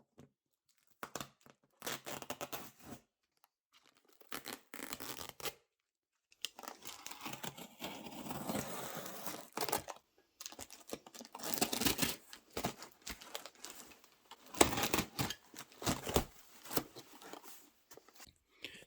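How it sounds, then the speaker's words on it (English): White packing tape being peeled and ripped off a cardboard box in repeated bursts of loud tearing and crinkling, with short pauses between pulls and no talking. "So I'm just gonna take all the white tape off real quick."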